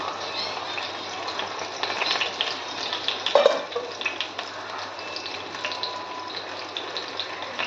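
Pumpkin leaf fritters frying in a pan at home, giving a steady, fairly quiet broadband sizzle and bubbling that runs throughout without speech.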